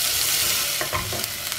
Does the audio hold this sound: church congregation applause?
no